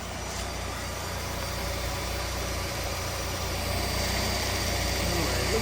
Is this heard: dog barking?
no